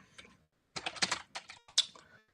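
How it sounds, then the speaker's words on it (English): Typing on a computer keyboard, a quiet near cluster of quick key clicks in short bursts with brief pauses between them, no talking. "And then I'll need to type this."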